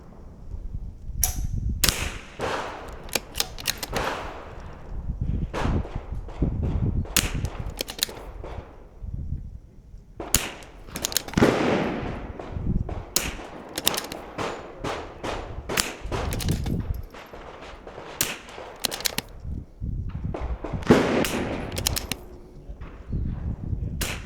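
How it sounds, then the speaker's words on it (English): Bergara B14R rifle fired at a target on an outdoor range: many sharp, loud shots spaced a few seconds apart, each with a brief echoing tail, mixed with handling noises between rounds. "so I'm gonna shoot the upper right corner of the bright white target"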